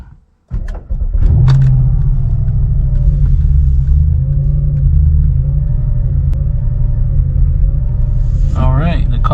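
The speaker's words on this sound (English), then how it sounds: "let's jump back to the car and let's start it up" A 2012 Audi S5 engine cranks and fires after a battery replacement, settling into a loud, steady cold idle rumble with a faint recurring whine above it, then a brief shift in tone at the end.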